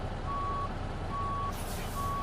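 A truck's reversing alarm in American Truck Simulator sounds three long, evenly spaced beeps over a steady low engine rumble, with no talking.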